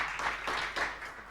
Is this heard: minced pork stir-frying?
no